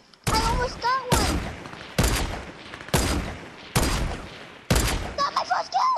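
Rapid bursts of gunfire in an online shooter video game, five or six loud broadband volleys about a second apart, with excited talk at the start and end.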